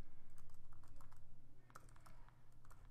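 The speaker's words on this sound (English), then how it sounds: "And then we're going to type paragraph again." Rapid clicking of typing on a computer keyboard during an Excel VBA macro demonstration, steady keystrokes close up over a low electrical hum, with no talking.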